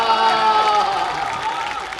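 Audience applause at a Hindi political speech gathering, a dense steady clatter of clapping across the whole stretch with a faint crowd murmur and no clear voice above it.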